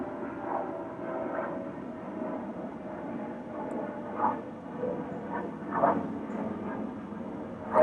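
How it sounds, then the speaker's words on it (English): An airplane passing overhead, a steady broad engine roar that holds at moderate, distant level with slight swells. "symbolic plane flying south"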